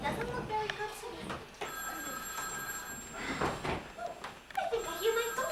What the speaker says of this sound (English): I think I hear my phone ringing